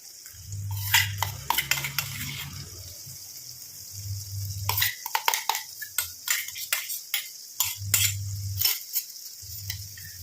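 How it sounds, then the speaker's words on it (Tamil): Ground hibiscus flower and black cumin paste being mixed in a heating pan, with intermittent scraping and clinking of a utensil against the metal, bursts of wet stirring and low bubbling hum, close up, no voices. "ஆட் பண்ணிட்டு நல்லா அந்த மாதிரி கலந்து விட்டணும் எல்லாமே"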